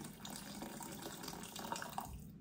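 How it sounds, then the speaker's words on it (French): Boiling water being poured into a cooking pot in a kitchen, a steady, continuous splashing and gurgling stream heard up close without talk. "je vais rajouter de l'eau supplémentaire, je vais aller jusqu'au max"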